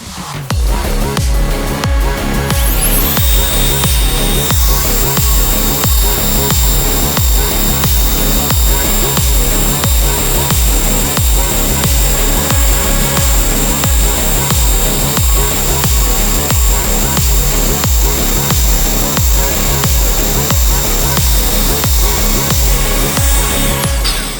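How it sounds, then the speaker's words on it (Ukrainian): A Metabo angle grinder sanding runs loudly and continuously, a harsh whirring grind with rapid rhythmic pulsing, starting up after a brief moment and staying steady. "Давайте шліфувати."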